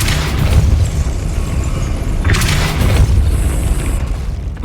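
A Depulso spell blast in the Hogwarts Legacy video game: a loud, dense booming burst with a couple of sharp impacts, sustained over a rumbling game soundscape.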